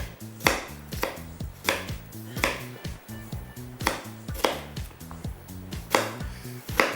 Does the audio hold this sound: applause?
no